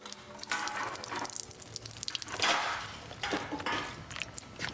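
Water running out of a tap fitted on a bin during a MythBusters brick barrel test: uneven splashing and gushing in irregular bursts, close and fairly faint, with no talk.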